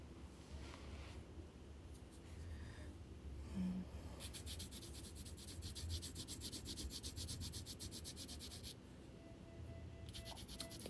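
Pencil shading on paper, the side of the graphite lead stroked lightly across the sheet while drawing a rhinoceros, giving a steady, soft, continuous scratchy rubbing that lasts throughout.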